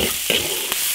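Ginger and garlic sizzle in a hot iron wok with a steady, loud frying hiss, broken by a few quick scrapes of stirring, and no voices.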